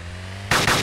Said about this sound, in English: that was me shooting at him